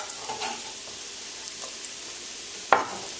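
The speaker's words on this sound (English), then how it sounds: "I can hear that lovely sizzle coming from it" Finely diced onion and three smashed garlic cloves sizzle in a pan for an okra curry, a steady close frying hiss with a brief stir clatter near the end, no voices.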